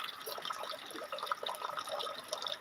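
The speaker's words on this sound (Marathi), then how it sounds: "बघा किती छान पाऊस पडायला लागलाय" Faint patter and drip of rain falling in a village after a dry spell, a soft steady scatter of droplets with no voices.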